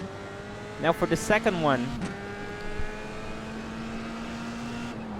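An F3 race car in iRacing at Montréal downshifts under braking: a rapid series of rising engine blips around the second mark, then a steady lower engine drone, with someone talking over it.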